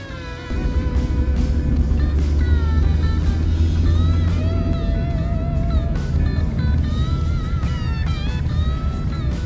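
A car drives steadily with a low, constant engine drone and road rumble, while music or electronic tones play over it; no one speaks.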